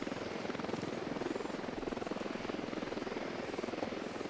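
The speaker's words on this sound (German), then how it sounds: "Der Heli ist ein Heli" Helicopter hovering in the video game Ghost Recon Wildlands, with a continuous rotor chop and engine whine at an even, moderate level and no talk.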